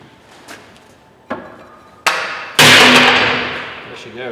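Sharp hammer blows ring out on a steel taper joint at a Lotus Elise's suspension upright with the brake caliper still attached, four strikes growing louder, the last heavy and ringing on in a long metallic decay.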